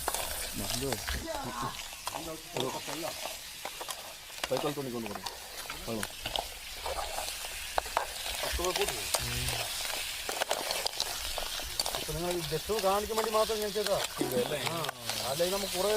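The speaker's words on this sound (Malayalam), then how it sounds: "അതിനുശേഷം ചട്ടിയിലേക്ക് കഴുകിയെടുത്ത ഇട്ട് നന്നായി ഇളക്കണം" Washed clams are stirred in a pan, giving a steady, moderately loud scraping sizzle that runs throughout while a person talks over it.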